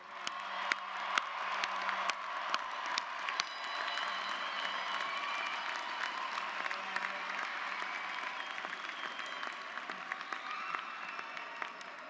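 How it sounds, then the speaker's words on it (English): Steady applause spreads across a large graduate commencement crowd, a continuous wash of clapping with scattered sharper claps and a few whoops, fairly distant and even throughout. "Now you can applaud."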